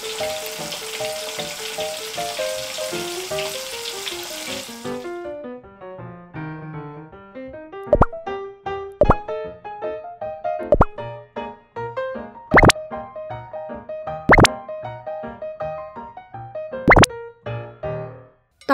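Toy kitchen play set frying scene: a sizzling hiss at first, then sparse plastic plops, clicks and light taps as pretend food is moved around, recorded close with no talking.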